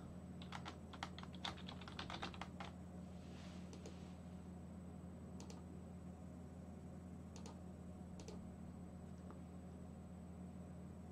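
Quick bursts of keystrokes on a US-layout computer keyboard fill the first seconds, then sparse, isolated taps follow over a steady low electrical hum in a quiet room.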